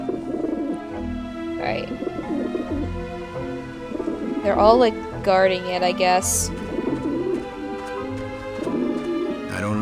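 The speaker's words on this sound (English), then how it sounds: "I don't like the looks of those pigeons." Pigeons cooing in the video game Grim Fandango, with soft repeated throaty coos and warbles over a low game music bed, while a person talks over it.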